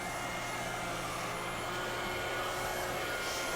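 A floor edger grinds down high spots in a wooden subfloor, a steady loud motor whine with broadband sanding hiss that stays constant and close, without pauses.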